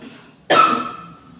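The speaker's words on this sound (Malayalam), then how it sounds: "ചുമ വന്നതാണ് കേട്ടോ" A single short, sharp cough bursts out close by and fades over about half a second in a quiet room.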